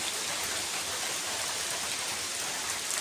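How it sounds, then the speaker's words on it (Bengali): Light drizzle falls steadily as cyclone Remal approaches a rural home in Chittagong, a soft, even hiss of rain with no other sounds. "গুড়ি গুড়ি বৃষ্টি শুরু হয়েছে।"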